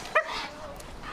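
A dog on a walk lets out one short, sharp bark or yip close by, followed by a faint whimpering tail and quiet outdoor background.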